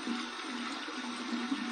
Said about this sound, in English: Going to flip it to the cold water side.